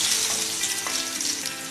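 Shallots, cinnamon, cloves, cardamom and garlic frying in hot ghee, a steady close hiss and sizzle with no break.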